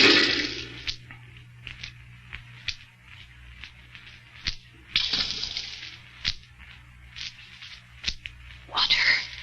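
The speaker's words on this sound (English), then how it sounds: "Water." A radio-drama effect of water at the bottom of a pit, as a loose rock fragment drops in: repeated close splashes and sloshing gurgles with short pauses between them.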